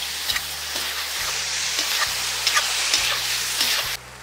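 Squid with vegetables and sauce frying in a cauldron over a campfire, a steady close sizzle with occasional crackles and light stirring scrapes throughout, no talking.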